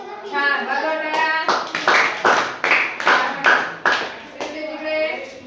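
A class of students clapping in a brisk, roughly even rhythm of about a dozen loud claps in a classroom, with a voice speaking at the start and end.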